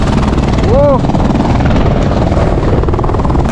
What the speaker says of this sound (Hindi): तो हेलीकॉप्टर अभी हम लोग को ड्रॉप करके यहाँ पर चला जाता है।